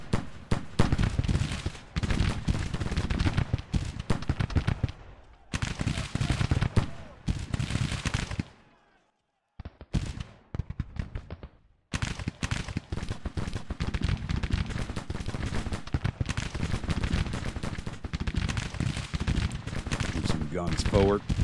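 Dense crackling musket volleys from massed infantry in the Civil War strategy game Grand Tactician, rolling continuous rifle fire with a brief lull midway, under a voice talking.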